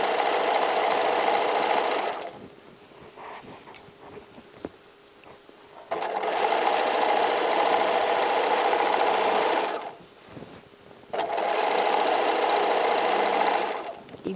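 A sewing machine stitches the seam of a fabric gift bag in two long, steady runs with a pause between them and a third run starting near the end, loud and close.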